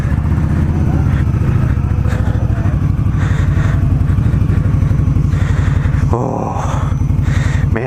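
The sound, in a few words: 2020 Indian Scout Bobber Sixty motorcycle engine riding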